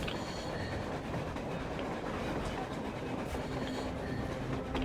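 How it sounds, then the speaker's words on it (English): A train rolls past in the post-apocalyptic video game Metro Exodus, a steady broadband rumble of rail cars and wheels that holds at a constant level throughout with no voices. "A train! A damn train on the surface!"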